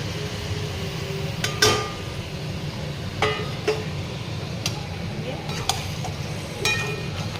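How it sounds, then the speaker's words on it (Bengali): Marinated mutton goes into hot oil in a pan, raising a low sizzle broken by several sharp clinks and scrapes of a utensil against the pot. "এবার আমি এর মধ্যে দিয়ে দেবো আমার যে আগে থেকে এখানে ম্যারিনেট করা মাটনটা আছে, সেই মাটনটা আমি এর মধ্যে দিয়ে দেবো।"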